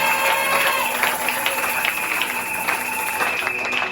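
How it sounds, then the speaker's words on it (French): A church seminar audience applauds and cheers steadily throughout, a dense wash of clapping with voices mixed in, fairly loud and continuous, with sustained tones from music or a keyboard underneath. "Marquez votre présence par des acclamations."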